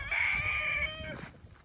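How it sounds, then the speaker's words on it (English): A rooster crows nearby with one drawn-out, wavering call that fades off, with no hen clucking clearly audible and no talk. "And this one up here has mostly roosters."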